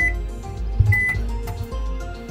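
A microwave oven in a camper van hums and buzzes steadily up close, running weaker than usual, a low electrical drone with a faint tonal whine and slight fluctuations.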